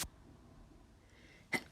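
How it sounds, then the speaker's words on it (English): A single sharp sneeze bursts out near the end after near silence, brief and close, following a faint short burst at the very start. "what a bad sneeze that was"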